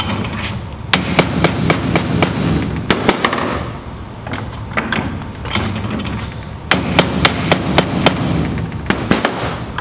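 Sharp, loud hammer strikes ring out on a metal bottle opener clamped in a vise, an irregular series of close impacts with brief pauses between groups of blows and no voice over them.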